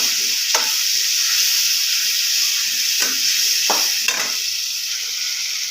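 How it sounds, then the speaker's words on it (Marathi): Spices roasting in a pan give a steady, close sizzle and hiss throughout, with a few brief stirring scrapes breaking through and no voices. "ज्यामध्ये मसाला सगळं घालून घ्यायचं. छान असं भाजून घ्यायचं."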